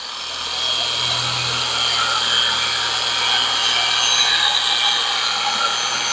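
A power polisher hums and whines steadily at close range on a panel of a 1975 Hemi Plymouth Duster, a constant high-pitched machine drone with no pauses.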